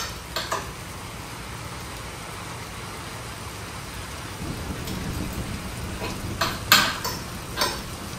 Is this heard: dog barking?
no